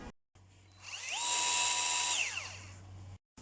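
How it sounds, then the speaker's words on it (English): A power drill bores out a stuck 3D-printed tube piece, its whine rising then holding a steady high pitch for a couple of seconds before winding down, heard close and alone over a low constant hum. "I guess I need to use a drill"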